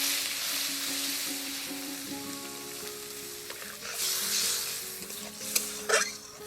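Mustard paste frying in a pan as water is poured in: a bright hiss of sizzling that settles, then a few stirring scrapes and clinks of a utensil against the pot near the end, with no talk.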